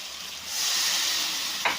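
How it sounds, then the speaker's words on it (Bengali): Water splashed into a pan of hot fried spice masala, bursting into a loud rising hiss of sizzling steam that swells after a brief quiet moment and holds steady, close up. "এবার আমি এতে পরিমাণ মতো জলটা দিয়ে দেবো"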